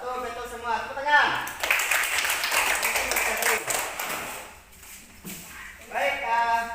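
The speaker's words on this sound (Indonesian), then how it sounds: "Tepuk tangan." A classroom of children claps hands together in a burst of applause lasting a few seconds, with a teacher's voice speaking just before and after it.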